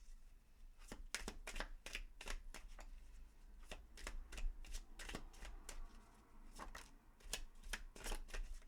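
Tarot cards being shuffled and drawn at close range, quiet crisp riffles and flicks in quick irregular bursts, each a short papery snap, with no talking.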